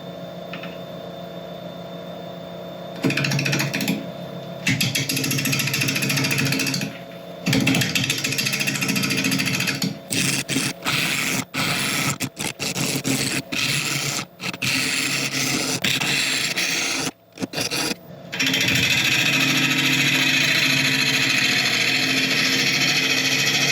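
A wood lathe turns a burl at about 780 RPM while a sharpened 1/2-inch bowl gouge cuts it, giving a loud, steady grinding roar with choppy, interrupted bursts as the tool catches and lifts.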